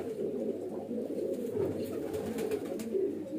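A highflyer pigeon coos in soft, repeated low throaty phrases close by, with faint background noise and no voices.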